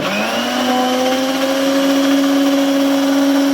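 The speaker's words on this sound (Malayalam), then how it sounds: "ഞാൻ മിക്സിക്കകത്ത് തന്നെ ചെയ്യുകയാണ് അപ്പം നമുക്ക് മുട്ട ഒന്ന് അടിച്ചു" A mixer grinder beating eggs whirs loudly and continuously, its motor pitch rising briefly at the start then holding a steady high whine.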